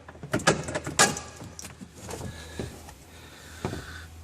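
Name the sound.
pulling out Renault Twizy handbrake assembly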